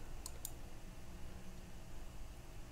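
A computer mouse gives two quick, faint clicks in close succession while mapping tracking data from a Kenwood TM-D710G radio, followed by quiet background hiss.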